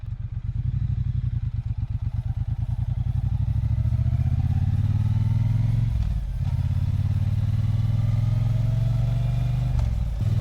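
A Triumph Bonneville T120 motorcycle riding on a public road, its engine loud and steady with a pulsing low beat that rises as it pulls away, briefly dipping around a gear change before carrying on.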